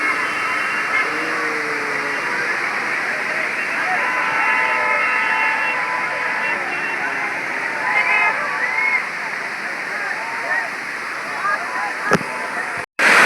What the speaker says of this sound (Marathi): आपल्या इथं दर्शन झालेलं आहे मस्तपैकी धबधब्याचं.